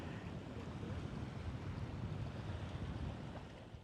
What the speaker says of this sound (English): So you got waves coming from both sides.